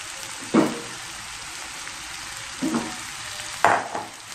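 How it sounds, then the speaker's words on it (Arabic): Chicken slices added to a pan of browned onions, giving short bursts of sizzling at intervals over a quiet, steady frying hiss. "بعد ما تشحرت البصل ديالنا كنزيدو عليها شرائح الدجاج"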